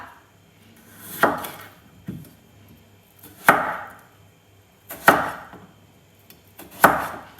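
A knife chops through potatoes on a cutting board for potato wedges, sharp single thunks spaced roughly a second apart, close and clear in an otherwise quiet kitchen.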